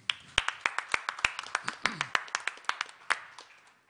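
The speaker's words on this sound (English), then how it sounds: "warm round of applause." Sparse, distinct handclaps from a small conference audience welcoming a speaker, sharp individual claps ringing out irregularly over about four seconds and fading toward the end.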